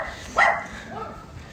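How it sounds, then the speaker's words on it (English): A single sharp bark from a small dog outdoors sounds fairly close, followed by a fainter, lower yelp, both against quiet ambient background. "Setting off a bunch of dogs, so apologize."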